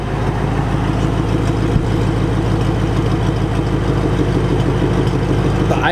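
A 2007 Shelby GT500 with long tube headers, an X-pipe and an upgraded pulley idles close by, a steady, even low rumble that holds without revving.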